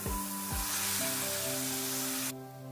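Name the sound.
carrot halwa cooking in milk on low heat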